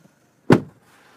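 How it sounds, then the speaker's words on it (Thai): A car door on an Isuzu MU-X MY17 SUV shuts once with a single loud, solid thump, followed by near silence inside the cabin. "ปิดประตูหน่อย"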